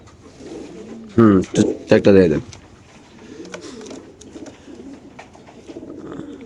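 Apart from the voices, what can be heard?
pigeons cooing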